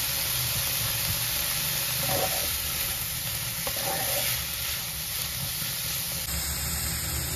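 Red amaranth greens fry lightly in a pan with a steady, soft sizzling hiss, continuous and fairly quiet, with a couple of faint scrapes partway through.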